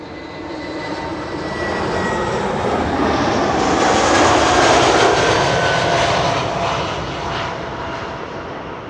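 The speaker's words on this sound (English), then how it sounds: "an A319 in the Star Alliance livery" An Airbus A319 in Star Alliance livery arriving at Schiphol, its jet engines swelling into a loud broadband roar as it passes overhead, peaking mid-clip and then slowly fading.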